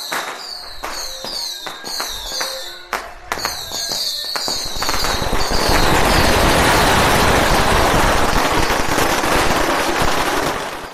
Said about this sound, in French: mettons-nous dans l'ambiance tout de suite avec les pétards